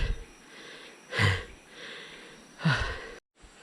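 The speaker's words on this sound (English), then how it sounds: "Sorry, a bit of heavy breathing." Heavy, labored breaths from a hiker climbing uphill on a forest trail with wooden banisters in Gunung Gading National Park, Sarawak, come in two loud, close puffs about a second and a half apart over faint background hiss.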